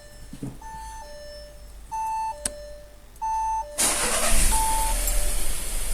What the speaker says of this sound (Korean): 지금 이제 이그니션 온 상태에서 차량 시동을 한번 걸어 볼게요